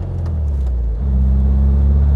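An old four-speed car resembling a VW Beetle pulls away, its engine a steady low rumble that deepens and strengthens after about one second as it drives off, close and loud with no voices.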